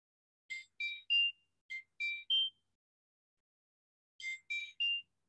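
A phone ringtone sounds for an incoming call during an online class: clear, bright three-note chirping bursts, played twice with a pause between, fairly close and with no talking.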